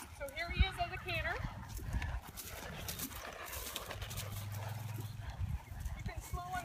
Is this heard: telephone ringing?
no